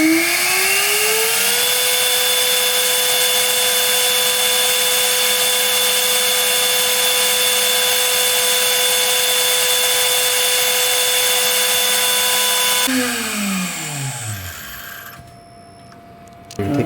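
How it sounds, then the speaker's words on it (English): A milling machine cuts a small cortical human bone sample in a lab with a steady high spindle whine and faint cutting noise, then winds down near the end as the spindle stops. "now we can start the milling process"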